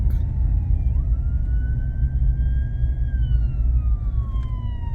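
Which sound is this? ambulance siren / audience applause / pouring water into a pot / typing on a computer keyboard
ambulance siren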